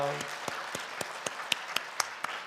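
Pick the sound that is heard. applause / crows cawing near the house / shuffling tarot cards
applause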